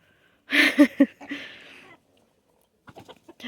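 Several loud, close clucks from chickens being chased by a dog in a quick burst, then a pause and softer scattered clucking near the end.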